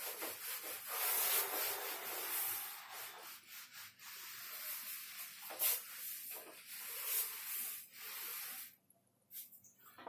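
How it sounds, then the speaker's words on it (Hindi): Steady rubbing, like something being rubbed or sanded on a surface during a physics lesson on electrostatics, continuing in close, even strokes for several seconds before stopping near the end. "मैं रब कर रहा हूँ।"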